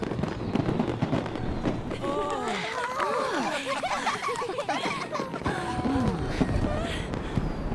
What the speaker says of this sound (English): those fireworks sound real